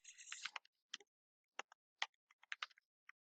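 Fingers type a search query on a computer keyboard: a quick run of clicks, then sparse, irregular single key taps, close and crisp in an otherwise silent room.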